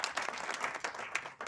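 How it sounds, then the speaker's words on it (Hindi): Faint, brief patter of audience clapping at an experience-sharing meeting, uneven scattered claps rather than a full ovation. "देखिए, तालियां बजानी है तो अच्छे से बजाइए, नहीं तो रहने दीजिए।"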